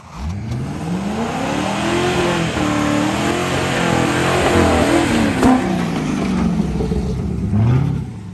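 Truck with a welded front differential, in four-low, accelerates hard and spins all four wheels. The engine revs rise and fall in a loud, close, sustained roar with no talking over it.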